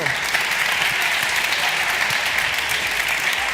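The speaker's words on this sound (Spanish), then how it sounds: "un aplauso para Hugo" Studio audience applauding a contestant named Hugo on a Spanish TV science quiz show, a steady dense wash of clapping that holds at an even level throughout, with no talk over it.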